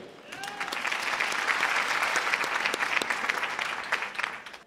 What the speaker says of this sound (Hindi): एक बार जोरदार तालियां एडवांटेज के लिए